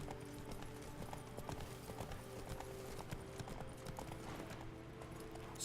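Horse hooves clip-clop at a steady walking rhythm in The Witcher 3 video game, faint and continuous under a low ambient wash.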